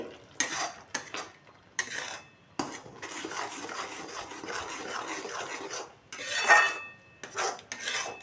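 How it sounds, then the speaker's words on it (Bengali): A spoon scrapes and knocks against a bowl as bottle gourd peel paste is stirred with salt and turmeric, giving irregular bursts of clinking and rubbing with short pauses in between. "ভালো করে নাড়িয়ে নিচ্ছি"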